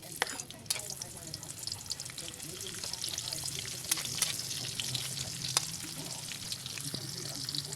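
Onions fry in hot oil for a mixed vegetable dish, a steady, even sizzle with faint crackles and occasional sharper pops throughout.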